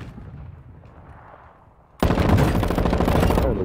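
Automatic M4 assault rifle fire in Call of Duty Warzone 2 erupts abruptly halfway through, loud sustained bursts following a quieter stretch of low ambient rumble.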